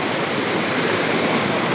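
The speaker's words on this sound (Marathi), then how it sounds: "हा मोठा धबधबा" A big waterfall plunging from a great height near the Mahad caves, a loud, dense roar of falling water close by, steady and without speech.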